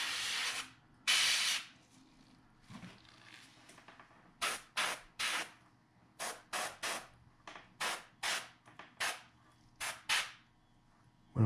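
An airbrush sprays paint onto a small trout fishing bait in a series of short, sharp hissing bursts, repeated in a quick irregular rhythm, close and fairly soft, with brief quiet gaps between.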